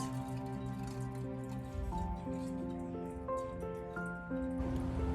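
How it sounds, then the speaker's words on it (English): Rosehip oil is poured into a small glass jar, producing a close, soft stream of gurgling and trickling with rising tones as the jar fills, and no talking. "my rosehip oil, I'm going to pour into a smaller glass jar"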